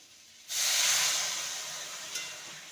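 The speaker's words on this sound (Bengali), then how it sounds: "এবার দিয়ে দেবো পরিমাণ মতো জল" Water poured into a hot pan of spiced potatoes, a sudden loud hiss of steam that starts sharply, then slowly fades while staying close, with no talking.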